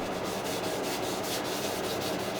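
A cloth rubs wax finish into a turned oak plant pot on a woodturning lathe with steady, quick, rhythmic strokes. The scrubbing is close and continuous, with no talking.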